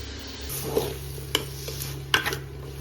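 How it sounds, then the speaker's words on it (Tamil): Pre-cooked banana flower with tomato and spices simmers quietly in a pan, with a soft sizzle broken by a few sharp clinks of a spoon stirring against the metal. "வேக வச்சிருக்கிற வாழைப்பூ எடுத்து உள்ளே போட்டு கொஞ்ச நேரம் நல்லா வேக விட்டுறணும்"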